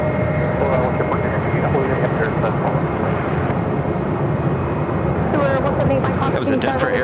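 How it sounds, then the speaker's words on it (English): A Denver Air Connection Metroliner turboprop at Phoenix airport, a loud continuous engine roar and whine filling the whole stretch with a steady high tone, with a voice talking over it. "That was a Denver Air connection at flight 3101. Metroliner."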